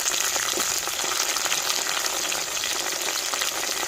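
Tomato, drumstick, brinjal and potato sautéing in hot oil for a dried stingray fish curry give off a steady, close, even sizzle with no talking.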